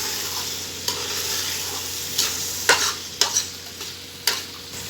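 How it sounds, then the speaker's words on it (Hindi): Chickpeas stirred and roasted in a pan for Lahori chana, a soft steady sizzle with several sharp scraping clicks of a spoon, close and alone. "इसमें हम चनों को ऐड करेंगे और इनको 2-3 मिनट तक भूनेंगे।"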